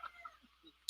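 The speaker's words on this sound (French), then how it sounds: "Est-ce que vous entendez le coq?" A rooster crows from across the street, faint and distant, in a few short broken bursts with a brief sharper call at the end.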